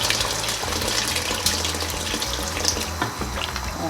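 Hot water from a kettle pouring into a pot of beef and aubergine stew on the stovetop, a steady close rushing splash running for about four seconds with no talk.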